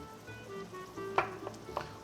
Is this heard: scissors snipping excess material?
no